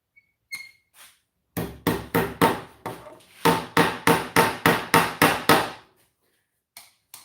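A hammer strikes metal in a run of eleven loud, sharp, evenly paced blows, with a few lighter taps and knocks before and after. It is heard in a workshop setting where Wiha and Klein tools are being compared.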